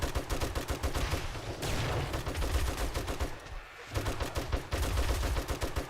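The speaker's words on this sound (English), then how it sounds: "Cop over here shooting at me." Gunfire from a cop zombie in 7 Days to Die: rapid, repeated shots crackle almost continuously, briefly dropping out midway before resuming, loud and close amid game noise.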